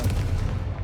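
A Confringo fire-blast spell goes off in Hogwarts Legacy, a loud, booming burst with a rumbling low tail that lasts under a second, with no voices.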